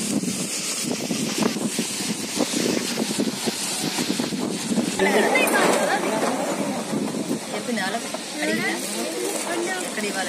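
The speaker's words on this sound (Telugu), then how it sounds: "విపరీతమైనటువంటి గాలి వస్తూ ఉంది." Strong gusty wind buffets the microphone at a hilltop temple of Lakshmi Narasimha Swamy at Erravaram, blowing down the tents there, while someone talks over the rushing noise throughout.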